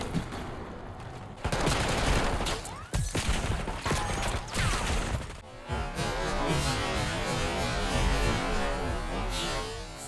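Rapid bursts of automatic gunfire and weapon mechanism clicks from a first-person shooter match in Black Ops 6 / Warzone, loud and close, with sharp sustained fusillades and brief pauses between volleys.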